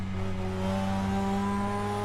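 Mazda RX-7 in Assetto Corsa on the Nürburgring, its engine droning in steady harmonic tones that shift slightly as it brakes and drops a gear, continuous and close for about two seconds.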